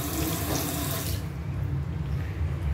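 Water running from a tap into a sink in a hotel bathroom in Magelang, a steady close rushing flow that cuts to a softer splash about halfway through.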